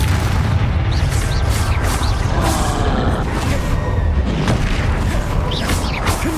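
Spell explosions from a Confringo blasting charm in Hogwarts Legacy, a dense run of booming bursts and pops over continuous game noise, loud and close throughout.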